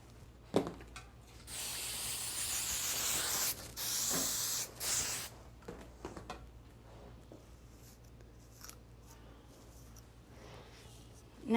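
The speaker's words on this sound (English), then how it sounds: "you want to spray all the way around" Hairspray hisses from an aerosol can in a couple of long bursts sprayed around a cheerleader's hair, close and loud, followed by quieter rustling and brushing of the hair.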